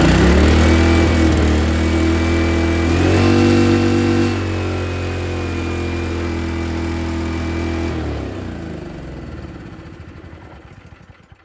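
A Honda generator converted to run on LPG races at a high, steady rev with a sustained whining tone, then the pitch and level sag as the engine slows and winds down toward the end.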